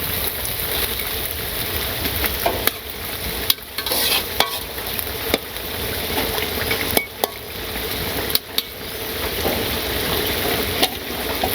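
Fish simmers in a boiling curry broth while a utensil stirs the pot, giving a continuous bubbling sizzle broken by sharp scraping clicks, moderately loud with no talking.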